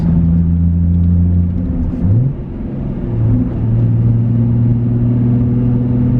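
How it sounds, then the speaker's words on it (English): Manual transmission car engine idling and humming steadily, with a quick throttle blip around a downshift into third that briefly raises the pitch before settling into a lower, steady drone; close and loud, no talk. "While the clutch is all the way in, put it in the third, blip the throttle, let out the clutch, and ease onto the gas"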